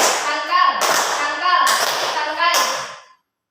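A class of sixth-grade pupils clapping in unison in a classroom, three quick rhythmic rounds of claps, close and fairly loud, with a teacher's voice talking over them.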